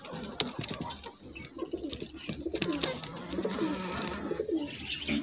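A pigeon coos softly close by in repeated low, throaty calls, with rustling and light background noise around it.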